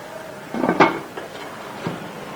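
A metal lid is set onto a cooking pot holding brownie batter on a stovetop, giving a close clatter followed by a couple of lighter clinks in a quiet kitchen.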